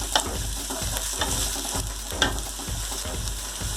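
Cumin seeds, onion and green chilli sautéing in a hot kadai, a loud steady sizzle with rhythmic stirring scrapes and clicks of the spoon against the pan.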